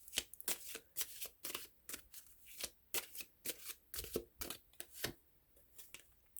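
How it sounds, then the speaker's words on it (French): Playing cards being shuffled and drawn for a tarot-style reading, a quiet run of soft riffling snaps and slides repeating in quick bursts, close and alone without talk. "Je vais piger que seulement quelques cartes pour voir si on peut avoir des indices supplémentaires."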